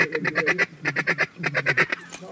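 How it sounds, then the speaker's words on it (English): Ducks quack loudly right in front of a hunting blind, bursts of rapid raspy quacks in rhythmic runs, close and clear. "Ducks right up front in the hole."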